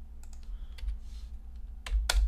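Quick keystrokes on a computer keyboard: a few scattered clicks, then a louder burst of close, crisp taps near the end, with no talking.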